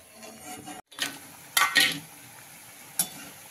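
Hadga flower fritters frying in oil, with stirring and spoon-on-pan clinks over a low sizzle, a couple of sharper scrapes standing out near and clear.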